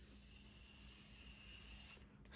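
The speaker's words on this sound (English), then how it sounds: "I'm just gonna spray myself with a setting spray just to kind of like set all the concealer and the bronzer in" Makeup setting spray misted onto a face, a soft continuous hissing spray lasting about two seconds, close and faint, then stopping with a slight click.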